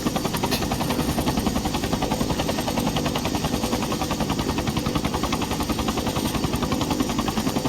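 A Bell 212 helicopter rotor thumps close and loud in a steady rapid beat over a constant turbine roar, with no voices.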